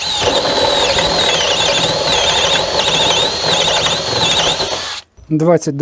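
Cordless screwdriver driving a 22 mm Falcon hole saw through wood: a steady, loud whirring grind with a wavering high squeal for about five seconds, then it stops and a voice speaks.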